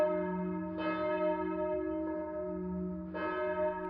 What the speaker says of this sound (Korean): 남산 언덕 위에서는 그렇게 해방의 종소리가 울려 퍼졌습니다.